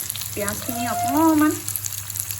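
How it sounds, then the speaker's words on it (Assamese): Onions frying in a pan beside potato pieces while a fish curry is prepared, giving a steady close sizzle under a brief tonal voice-like sound, with no talk. "এয়া সিজি আছে এই পিঁয়াজখিনি অকণমান ৰঙচুৱা হ'ল"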